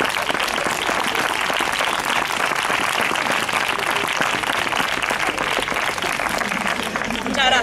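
A theatre audience applauds a live monologue with sustained, dense clapping that stays loud and even throughout.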